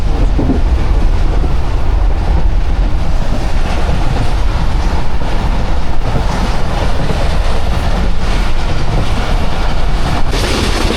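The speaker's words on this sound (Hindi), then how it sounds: "लियाकतपुर रेलवे स्टेशन से थ्रू पास हो रही है 43 अब शाह हुसैन एक्सप्रेस" Shah Hussain Express on the Karachi–Lahore route runs through Liaquatpur station without stopping, a loud, steady rumble of rolling coaches with clattering wheels that fills the whole stretch, no voices.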